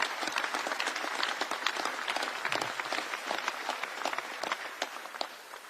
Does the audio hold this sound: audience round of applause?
yes